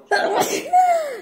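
A single sharp sneeze, followed by a short rising-falling vocal sound, close to the microphone.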